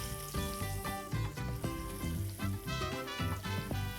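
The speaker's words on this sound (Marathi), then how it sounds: "आता हे आपण तळून घेऊया." Chana dal frying in hot oil for Diwali chivda, a steady close sizzle with crackling bubbles running throughout, no talking.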